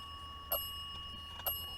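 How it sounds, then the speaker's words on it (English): The bell on an EMF spirit candle device, in use in a cemetery, rings in two short, bright dings about a second apart over faint, steady background hum; no one talks. "You love that bell, don't you?"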